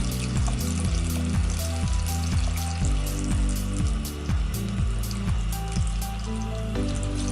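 Makeup brushes are rinsed under running water, a loud, steady splashing and trickling with rhythmic swishes and no voices.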